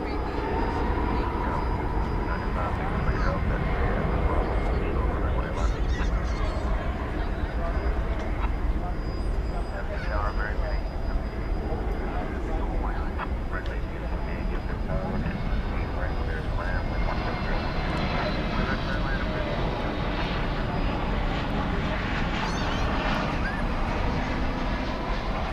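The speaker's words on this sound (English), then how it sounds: "This one's going to Houston Intercontinental Airport. It's a MAX 9, flight 2114." A United Boeing 737 MAX 9 airliner bound for Houston roars steadily at night at DFW Airport, a broad, continuous engine rumble lasting the whole stretch, with a voice talking over it.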